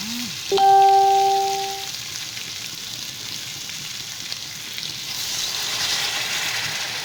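Water poured into a pan of papaya sautéed with spices in oil, with a sharp rising hiss and a brief tonal clink at the start, then a steady soft sizzle and bubbling that swells slightly toward the end, nearby and without talk.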